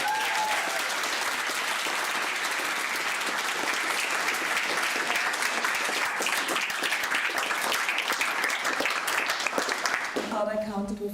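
Dense audience applause at a national assembly event in Düsseldorf, loud and continuous for about ten seconds, then fading as a voice starts talking near the end.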